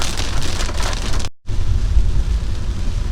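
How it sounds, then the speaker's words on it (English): Heavy rain pours in a steady, dense hiss, loud and close, broken by a brief cut of near silence before the downpour resumes unchanged. "It really is raining, man."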